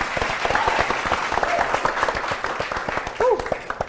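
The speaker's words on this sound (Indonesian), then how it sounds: "tepuk tangan dulu untuk 2 tim" A studio audience applauds two teams on an Indonesian TV quiz show, dense continuous clapping under a presenter's voice, with a brief louder swell near the end.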